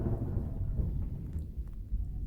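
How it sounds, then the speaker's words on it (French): Rain falls steadily with low rumbling thunder rolling underneath, a dense, continuous stormy wash heard as an atmospheric effect. "Il pleut dehors."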